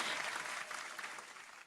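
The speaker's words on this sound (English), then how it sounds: "that's going to deserve another round of applause right there" A podcast soundboard plays an applause sound effect, a short, quiet burst of crowd clapping that fades quickly.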